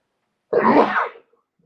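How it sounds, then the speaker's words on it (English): A single sharp sneeze bursts out close by, lasting under a second, surrounded by silence. "And I'm going to sneeze."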